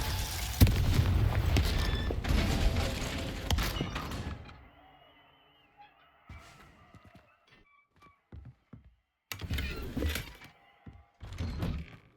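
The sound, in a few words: Confringo fire-blast spell explosion, Hogwarts Legacy video game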